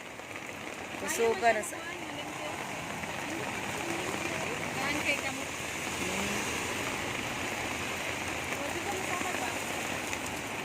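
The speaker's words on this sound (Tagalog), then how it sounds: "Kusog sa ulan." Heavy rain pouring down steadily, a dense continuous hiss of drops on surfaces throughout, with a few short spoken words early on.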